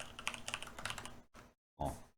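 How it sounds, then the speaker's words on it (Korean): Rapid typing on a computer keyboard, a dense run of close, crisp key clicks, then a brief pause and a few more short bursts of keystrokes with no speech. "타이핑을 똑바로 못하죠."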